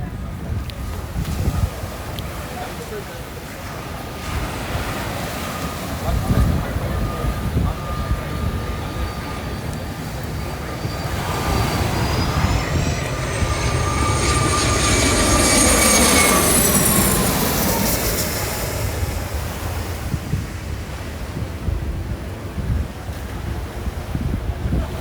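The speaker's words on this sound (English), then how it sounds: "Okay, plane coming in." A private jet comes in to land over Maho Beach on St Maarten. Its rising turbine whine swells out of steady wind and surf noise, peaks loudly in the middle, then sweeps down and fades.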